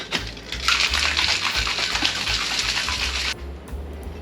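Mexican candy shot being shaken in a cocktail shaker with lime wedges, a steady rattling swish of liquid and ice that runs continuously and fairly loud for about three seconds, then stops abruptly.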